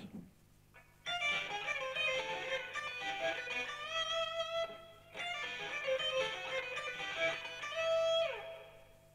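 Distorted electric guitar plays a fast diminished sweep-arpeggio metal lick, two rapid cascading runs of notes separated by a brief pause, close and sustained with no talking.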